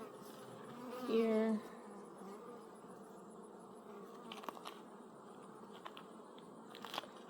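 Honeybees buzzing steadily around an opened backyard beehive, a close, continuous droning hum with a brief louder swell as one passes near, and a soft voice at one point.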